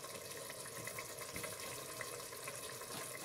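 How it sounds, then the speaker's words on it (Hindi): Water is poured into a cooking pot while chana pulao is made. A steady, soft stream of running water continues without a break and stays fairly faint and constant, with no talking. "भूनने के बाद फिर पानी डालेंगे।"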